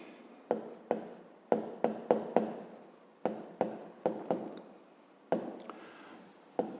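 Pen or pencil writing by hand on paper during a 5th-grade maths exercise, a series of short scratchy strokes in quick bursts with brief pauses between them, close and fairly quiet.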